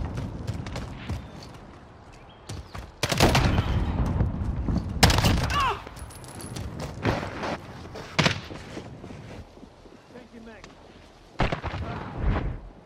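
Gunfire bursts from a Modern Warfare Demolition multiplayer match, several loud broadband shots and volleys scattered through the stretch, with quieter game noise and players talking in between.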